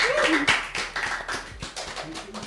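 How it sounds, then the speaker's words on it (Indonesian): Hand clapping during an Indonesian campus podcast, heard as a short run of distinct, fairly close claps at an uneven rhythm, mixed with faint voices in the background. "Tepuk tangan."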